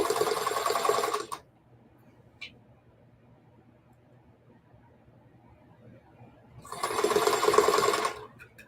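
A sewing machine stitches a bag in two fast, loud bursts, one at the start and one near the end, with a quiet pause and a faint click between them.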